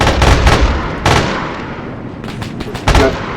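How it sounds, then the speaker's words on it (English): Gunfire volleys in a military video game, several loud rapid bursts of shots at the start, around one second and near the end, with a lingering rumble between them. "Fire off another volley."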